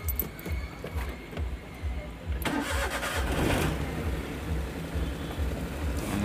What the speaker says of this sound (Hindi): तो इग्निशन स्विच ऑन करते हैं और मारते हैं सेल्फ